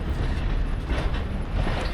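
A vintage passenger train rolls along a seaside promenade line, its steady rumble and rattling hiss filling the scene at close range without a pause.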